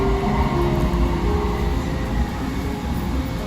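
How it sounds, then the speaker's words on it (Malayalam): Airport inter-terminal train at a New York airport, carrying passengers between terminals: a steady, close low rumble and rolling hum of the moving car continues without a break for the whole ride. "നമ്മളങ്ങനെ ന്യൂയോർക്ക് എയർപോർട്ടിൽ നിന്ന് അടുത്ത എയർപോർട്ടിൻ്റെ മറ്റൊരു വിങ്ങിലോട്ട് നമ്മൾ ട്രെയിനിൽ പോവുകയാണ്"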